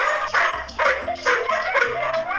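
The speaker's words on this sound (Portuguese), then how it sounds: "quanto cachorro tem na casa da minha mãe" Several dogs at a mother's house bark and yip in quick repeated bursts, loud and close, with whimpering notes between the barks and no talking over them.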